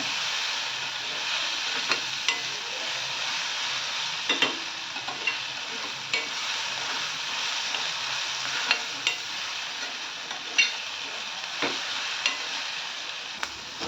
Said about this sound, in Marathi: आता हे छान तेलात परतायचं आपल्याला सर्व